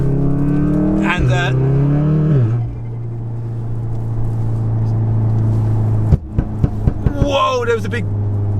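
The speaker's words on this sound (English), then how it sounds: "there was a big blow out the back. That must have been a flame." A tuned 600bhp Volkswagen Golf R revs hard, engine note rising and dropping, then settles to a steady idle before a burst of sharp exhaust pops and bangs near the end, loud and close.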